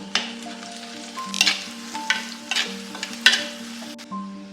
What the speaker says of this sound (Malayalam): സവാള ചെറുതാക്കി അരിഞ്ഞതും കൂടി ഇട്ട് കൊടുക്കാം സവോള നന്നായിട്ടൊന്ന് വഴന്ന് വരട്ടെ